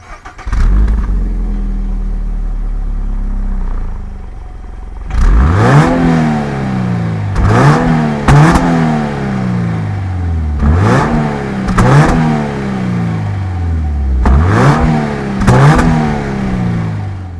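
A 2022 Subaru BRZ engine idles steadily, then is revved hard in a series of sharp blips, each climbing quickly and falling away, loud and close with no voices.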